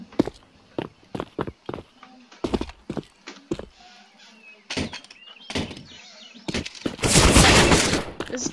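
Gunfire in the video game CS:GO rings out as sharp, loud shots in irregular single bursts and quick pairs, ending in a dense rapid volley, close and dominant with no talking over it.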